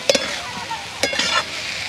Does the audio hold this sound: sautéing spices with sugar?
yes